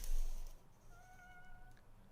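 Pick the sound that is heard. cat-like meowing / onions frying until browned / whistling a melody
cat-like meowing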